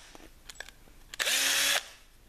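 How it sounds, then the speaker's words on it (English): A power drill fitted with a countersink bit spins up and bores a countersink into a drilled hole in wood for a screw-joined butt joint, one loud steady whirr lasting about half a second after a few faint clicks. "We've got these drill holes, and if we use the countersink,"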